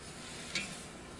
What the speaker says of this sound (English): so just stir it to combine